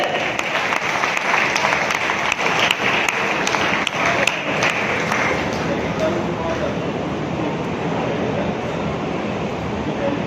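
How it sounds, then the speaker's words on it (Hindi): An audience at an RCM pin celebration breaks into vigorous applause with sharp individual claps standing out early, then settles into a fuller, steady crowd roar with voices mixed in. "जोरदार तालियां"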